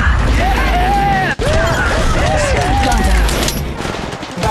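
Rapid bursts of gunfire in the Apex Legends Mobile battle-royale game, dense and continuous across the clip with a brief dropout, mixed with game effects and whooshing tones.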